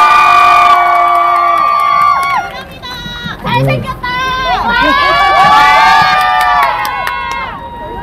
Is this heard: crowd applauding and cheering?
yes